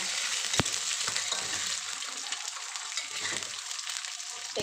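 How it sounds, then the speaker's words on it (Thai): Two eggs frying in a hot pan of oil, a steady close sizzle and crackle running throughout with occasional sharp pops and spatter, no talking. "ก่อนจะผัดก็ทอดไข่ดาวก่อนจ้ะ"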